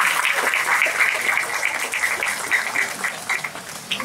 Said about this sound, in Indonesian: Tepuk tangan, teman-teman sekalian